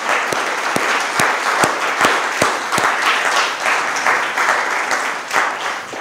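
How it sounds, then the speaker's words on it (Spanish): A church congregation gives a big round of applause to the Lord, sustained crowd clapping with a few sharp, close individual claps standing out near the front, continuing steadily throughout. "Démosle un aplauso bien gigante al Señor."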